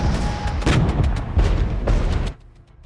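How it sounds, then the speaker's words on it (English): Napalm and heavy artillery strikes in the Cold War tactics game Regiments: dense, continuous rumbling blasts with repeated booming impacts for about two seconds, then cutting to a quieter low rumble. "I'm going to napalm these boys. And heavy artillery strike these boys."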